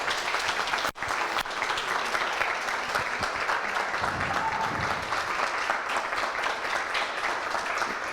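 Applause for graduates at a coding bootcamp demo day, a continuous steady crowd clapping that fills the room, with a brief dip near the start and a faint voice partway through.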